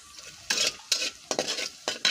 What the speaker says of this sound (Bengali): এই যে পেঁয়াজ লাল হয়ে গেছে